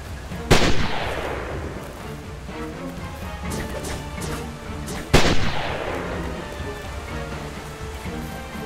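Gunfire in the Spider-Man: Shattered Dimensions video game: two sharp, loud shots about five seconds apart, each leaving a long ringing decay, over a steady bed of game ambience and score with no talk.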